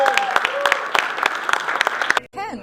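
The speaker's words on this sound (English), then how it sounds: "Let's give Rob Bonta another round of applause." A brief scattered round of applause for Rob Bonta at a construction expo, a handful of distinct claps over a murmuring voice, cut off by a short burst of speech at the end.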